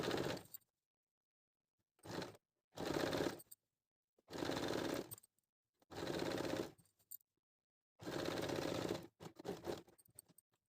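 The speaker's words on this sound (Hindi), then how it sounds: "अब हम इसको सिलना शुरू करते हैं" A sewing machine stitches a woolen salwar in about five loud, close bursts of rapid mechanical whirring, each a second or so long, separated by short silences and ending in a choppier run of stitching.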